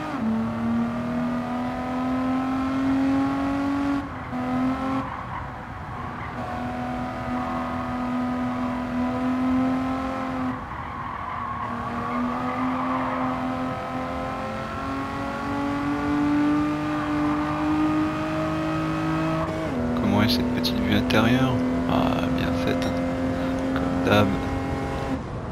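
A 1970 Nissan Skyline Hard Top 2000 GT-R in Gran Turismo 7 drones with a steady inline engine note that climbs in pitch, drops abruptly at gear changes several times, then revs harder near the end.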